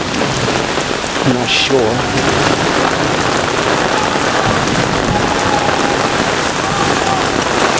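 A severe thunderstorm in Brooklyn, New York, sends heavy rain pouring down in a loud, unbroken roar, and someone speaks briefly over the downpour.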